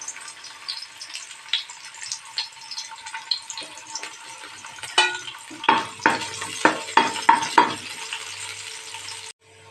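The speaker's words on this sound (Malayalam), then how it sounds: "ഉള്ളി നല്ല മൂക്കുന്നുണ്ട്." Finely chopped small shallots fry in hot oil for a dried prawn and mango curry, a steady sizzle broken by a run of sharp spatula scrapes and clatters in the second half, close and fairly loud, with no talk.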